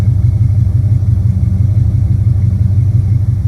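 Big-block Buick Regal G-body with a 455 engine and 3-inch dump exhaust idles with a deep, loud, steady rumbling burble, close by and continuous with no talking.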